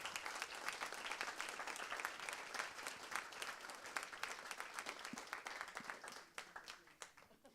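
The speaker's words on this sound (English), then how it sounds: "Can we give Melody another round of applause?" A full round of audience applause for a speaker at a leadership event, dense sustained clapping from a large crowd that thins toward the end, with talking mixed in.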